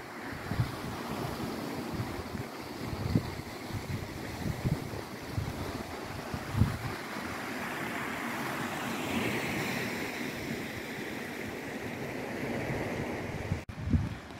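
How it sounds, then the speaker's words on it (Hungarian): Waves washing onto a rocky Scottish seashore near Castle Sinclair, a steady broad rush of surf mixed with gusting wind buffeting the microphone, continuous and fairly loud with no speech. "Egy kis skót tengerpart."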